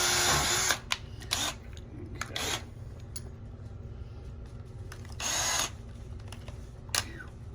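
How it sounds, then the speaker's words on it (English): Several short bursts of a drill boring pilot holes into wood while repairing a damaged upright piano caster socket, separated by pauses and small clicks, fairly close and loud. "I always like to drill pilot holes."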